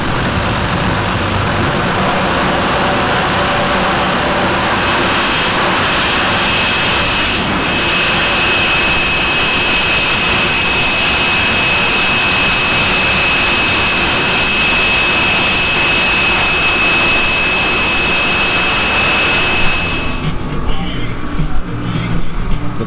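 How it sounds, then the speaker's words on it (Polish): A jet-powered speed record car on skids roars on a frozen lake in Sweden, a loud sustained blasting whine with a rising high tone that holds, then cuts off abruptly near the end. "Ale silnik odrzutowy ma, nie?"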